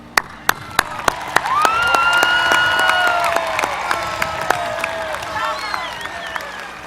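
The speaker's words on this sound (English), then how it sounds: "Please join me in applauding them." An audience at a university commencement applauds the graduates with steady clapping and scattered cheers. Sharp individual claps stand out near the microphone, and a few voices call out over the crowd.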